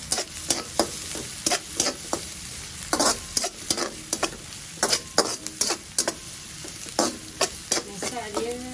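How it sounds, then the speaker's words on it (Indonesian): Mushrooms sautéing in a hot pan, sizzling steadily while a spatula scrapes and stirs in a quick, regular rhythm of sharp close strokes. "kita tumis."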